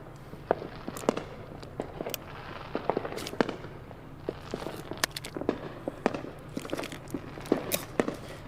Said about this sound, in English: I knew we used fireworks on them